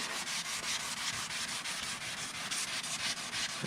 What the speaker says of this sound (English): going through with the sanding blocks, sanding up the surface